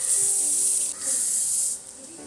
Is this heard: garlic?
yes